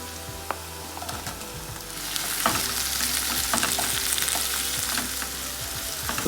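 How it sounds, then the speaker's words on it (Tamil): Large onions sauté in a pan with coriander and mint for mutton kurma. A quiet sizzle swells into a louder steady frying hiss, with scattered clinks and scrapes of stirring. "கொஞ்சம் வணக்கிட்டு பெரிய வெங்காயத்தை உள்ள கொண்டு வந்துடுங்க"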